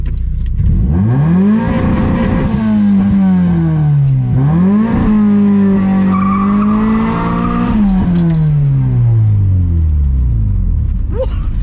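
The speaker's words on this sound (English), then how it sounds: "I just want to see what the launch feel like." A Honda Prelude launches hard from a standstill, its engine revving loudly up and down through several sweeps with tire chirp and rumble, close to the listener and dominating throughout.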